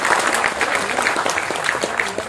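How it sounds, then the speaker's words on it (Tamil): A hall audience at a film audio and trailer launch applauds an honoured guest with close, crisp, uneven claps that ring out loudly and continuously, without talk over them. "இந்த அரங்கமே நல்ல அதிர மாதிரி அண்ணனுக்கு நல்ல ஒரு கைத்தட்டு கொடுங்க"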